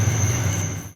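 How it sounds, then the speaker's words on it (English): A CSX freight train passes close by with a loud, steady low rumble and a thin high whine above it, fading slightly at the end of a brief one-second moment. "And here comes the other CSX."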